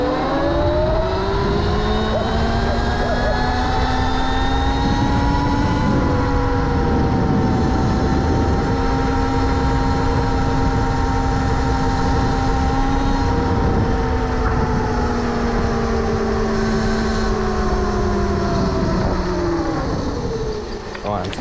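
An Electro and Co electric pit bike rides in mode 3, its motor giving a loud, sustained high-pitched whine that rises and falls with speed, along with wind and road noise.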